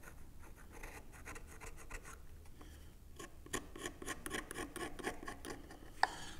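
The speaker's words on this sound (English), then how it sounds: "Let's just draw the haunch lines back on now." A pencil draws haunch lines across wood for a hand-cut mortise and tenon joint, with quiet, close scratching strokes that grow busier toward the end and one sharp tap near the finish.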